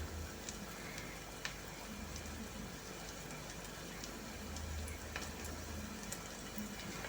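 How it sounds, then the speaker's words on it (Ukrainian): Grated potato pancake batter for deruny sizzles steadily in a frying pan over medium heat, a continuous close crackle with small pops scattered throughout. "Смажити будемо на середньому вогні"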